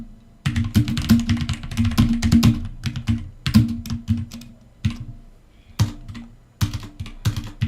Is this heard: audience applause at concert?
no